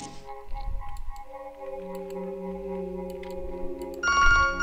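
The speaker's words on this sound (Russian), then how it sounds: "О, телефон." A telephone rings in the video game To the Moon, a tonal electronic ring that sits over a soft musical background and swells louder near the end. Nobody speaks.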